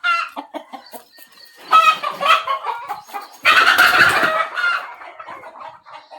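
Farm chickens clucking close by, a run of short rhythmic clucks followed by louder, drawn-out squawking calls from one or more hens, with no talk.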